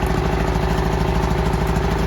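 A Genmax 3300i inverter generator's small engine runs at a steady, even idle, loud and close, with a rapid regular putter throughout and no voices.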